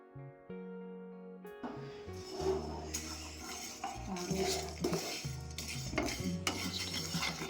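Cumin seeds dry-roasting in a pan for chutney, scraped and stirred with a metal spoon, clinking and scraping strokes with faint crackle under background music, no voices.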